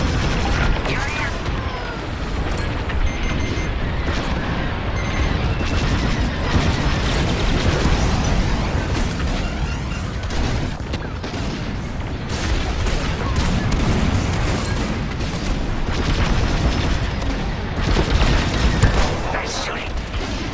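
Starfighter laser fire and explosions in Star Wars: Squadrons, a dense, loud, continuous roar of blasts and engine noise with rapid shots layered on top, voices talking over it.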